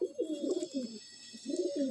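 Madrasi Andhra pigeon at a loft cooing in close, throaty phrases, two rolling bursts separated by a short pause, with a faint steady hum behind.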